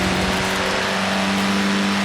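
Mini Cooper S engine in the racing game Forza Horizon 4, a loud steady drone with strong tonal hum and a continuous engine note throughout, alone without talk.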